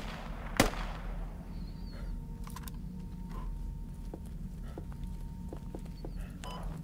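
Gunshots in the military shooter game Squad: one loud sharp crack near the start, then scattered fainter distant shots popping over steady ambient noise.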